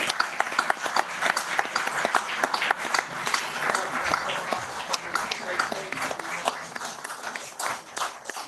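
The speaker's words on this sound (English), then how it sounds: "give them a big round of applause" Applause at an annual town meeting for Woodley Football Club, a dense, steady patter of many hands clapping together across the room, loud and continuous from start to finish.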